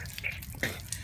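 Running water splashes steadily, like a tap rinsing something in a sink, with a few louder splashes over a short stretch.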